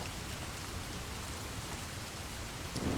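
Steady rain falls as ambience for a Lone Wolf gamebook reading, a dense, even hiss of drops on a surface with a faint low rumble toward the end and no voice.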